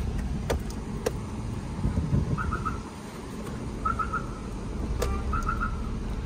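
A car creeps slowly forward on a rough dirt-and-stone mountain road in Ladakh, with a steady low engine and tyre rumble throughout and faint chirps above it.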